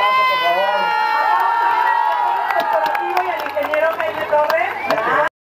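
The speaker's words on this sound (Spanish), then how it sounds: "A ver, un aplauso, por favor" Children and adults at a large community Christmas posada cheer and shout over a burst of clapping, loud and sustained for several seconds with voices rising above it before it cuts off.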